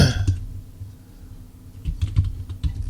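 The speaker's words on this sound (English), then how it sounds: "you're going to hear me typing here in just a minute because I'm going to give you some stats" Keys clatter on a computer keyboard in short bursts of typing, close to the microphone, with a quiet pause in the middle and no voices.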